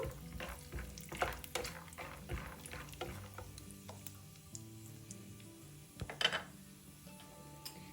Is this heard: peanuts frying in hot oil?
yes